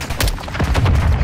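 Helicopter gun run in Call of Duty Modern Warfare II: loud, close bursts of rapid gunfire crack out in quick succession, with heavy low-end booms rolling underneath across the whole short stretch.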